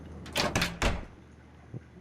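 A door swinging open in Car Mechanic Simulator 2021, heard as a close creaking sweep with a couple of loud bursts and a softer knock at the end, with no voices.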